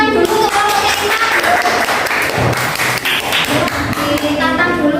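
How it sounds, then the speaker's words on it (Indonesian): Applause fills a school classroom as a student group is welcomed to present, a continuous dense patter of many hands clapping at once, loud and close. "Beri tepuk tangan dulu"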